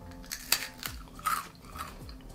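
Close, crisp crunching of a freeze-dried cherry gummy candy stem being bitten and chewed, several dry brittle crackles in an uneven rhythm with no talking.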